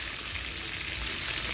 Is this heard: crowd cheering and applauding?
no